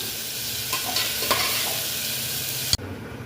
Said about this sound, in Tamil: தக்காளி போட்டு நல்லா வதக்கி விட்டுக்கலாம்.